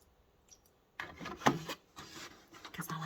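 A fork or whisk beats one egg with a little milk in a bowl, producing close, rhythmic scraping and clinking strokes that begin after a quiet second and continue steadily.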